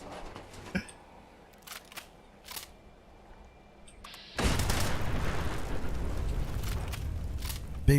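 Explosion in the Fallout 76 video game: after scattered clicks and short thumps, a heavy blast bursts in at once and a loud rumbling roar holds for several seconds, ending with a sharp crack.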